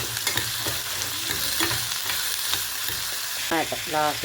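Onion, carrot, beans and grains fry and are stirred in a pan for vegetable upma, with a loud continuous sizzle and repeated scraping of the spoon, and a brief voice near the end.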